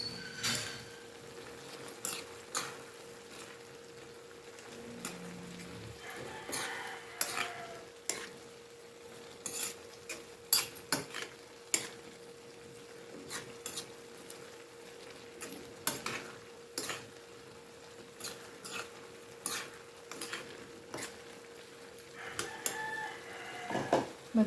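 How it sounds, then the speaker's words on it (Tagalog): Mung beans with shrimp being stirred in a pan, heard as faint intermittent utensil scrapes and clicks over a soft sizzle, quiet and sparse throughout. "Ating haluin."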